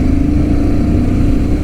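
A Honda Rebel 1100 motorcycle accelerates hard at full power in sport mode, giving a loud, close, continuous engine roar with a steady low rumble and no talking.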